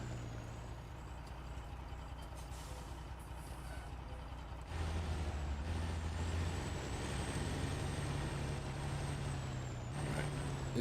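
A Kenworth truck in the Snowrunner video game idles with a low, steady engine drone. Air brakes hiss partway through, and a high tonal whine runs above the engine after the shift.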